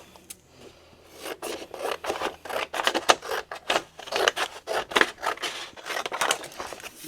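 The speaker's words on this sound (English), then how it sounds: "then we're just going to cut some of the extra" Scissors snip through paper and cardstock while trimming excess for a handmade mini album, a close run of crisp, irregular cuts with soft rustling of paper between them.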